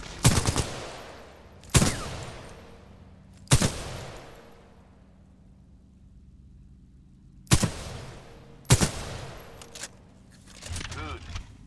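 Single loud weapon shots from the shooter game Titanfall 2 ring out in a spaced sequence of about five reports, each with a short decaying tail, separated by quiet stretches of low game ambience, with talk partly heard.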